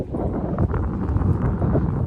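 Strong wind buffets the microphone beside the KRS reservoir backwater near Mysore, a steady broadband rumble with gusty swells that continues without a break.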